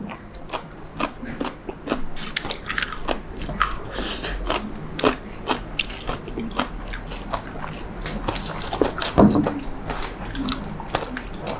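Crispy deep-fried pork tail being bitten and chewed up close, a run of sharp irregular crunches and smacking chews, loud and near, without talk.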